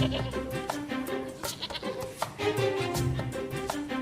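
Goat bleating several times in short, wavering calls, close and clear, with faint voices and background noise between the cries.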